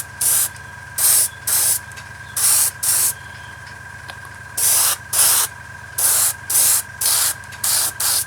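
Bursts of airbrush spray on a 1/32 Wingnut Wings RE.8 model aircraft part, about a dozen short hissing blasts in a stop-start rhythm, with a steady low compressor hum running beneath.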